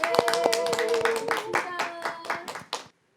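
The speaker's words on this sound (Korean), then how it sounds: "큰 박수로 맞이해 주세요" An audience claps to welcome a guest teacher onto a Korean talk-show stage, a close, lively burst of many hands that thins to scattered claps before stopping abruptly.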